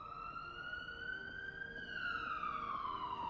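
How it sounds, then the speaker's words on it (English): Police sirens in a video game wail with a rising then falling tone, a single continuous siren growing a little louder as it approaches, heard clearly with no talk over it. "Saved by the sirens, I suppose."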